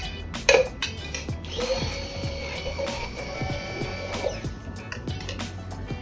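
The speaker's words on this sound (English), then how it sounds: "Using a blender with foamers like quill eye extract or egg white or aquafaba, it actually substitutes as dry shake" A blender whirs steadily for several seconds, frothing a cocktail with a foaming agent such as egg white or aquafaba, with a sharp clink near the start and light clatter throughout; no one speaks.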